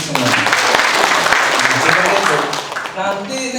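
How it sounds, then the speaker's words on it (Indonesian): Teachers at a PGRI branch conference in a hotel clap together, a dense, steady patter of hands with voices calling and cheering over it, fading slightly near the end. "Tepuk tangan untuk semua"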